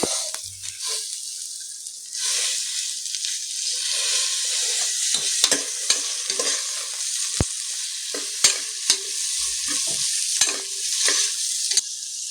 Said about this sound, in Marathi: याला आपण चांगलं मिक्स करून घेऊया।